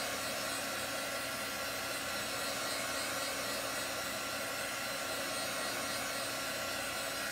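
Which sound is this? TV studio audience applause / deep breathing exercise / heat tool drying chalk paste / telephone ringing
heat tool drying chalk paste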